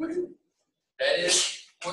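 A single sneeze bursts out between bits of talk, sharp and close, with speech before and after.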